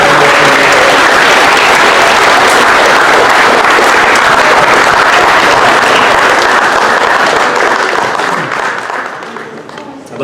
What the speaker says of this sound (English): let's give one more round of applause for all the awards recipients.